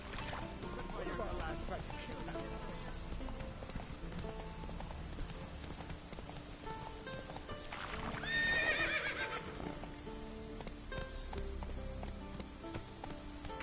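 In The Witcher 3, the horse Roach neighs and its hooves clip-clop, with a clear whinny rising in the middle over faint, steady hoof and ambient game sound, under a nearby voice.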